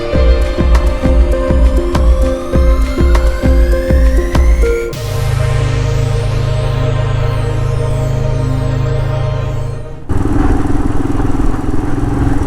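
Royal Enfield Himalayan motorcycle engine under way on Kanakapura Road, a loud steady single-cylinder thrum that climbs through the revs, drops into a lower drone after a gear change, then builds again, close and without talk.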